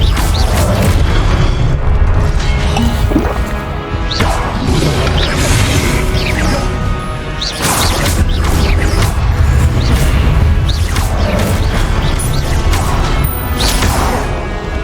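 Expelliarmus and other combat spells in Hogwarts Legacy during a boss battle fire as a dense run of booming impacts, crashes and whooshing bursts, repeating every second or two over a constant rumbling game backdrop.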